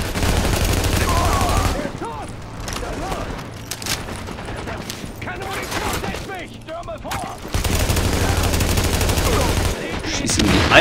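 Gunfire in the video game The Division on PC, with dense bursts of automatic weapon fire and loud booming volleys that drop off in the middle, while a German-speaking player talks over the action.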